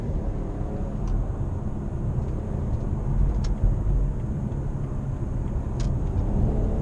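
Exhaust from a Stage 2 tuned BMW M540i rumbles steadily while driving, a loud, continuous low drone with a few faint crackling pops on top and no talking.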